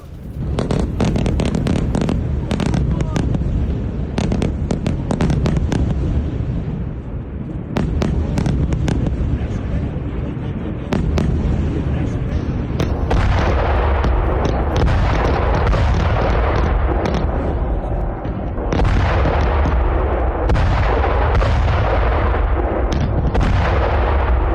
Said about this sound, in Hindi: आधी रात बेरूत के दक्षिण में बमबारी हुई। धमाकों की आवाज से